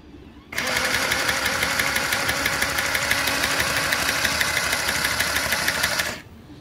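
The motor-driven pusher of a freshly greased Nerf M41A pulse rifle blaster whirs steadily and loudly for about six seconds, starting and stopping abruptly, with a buzzing mechanical rattle throughout.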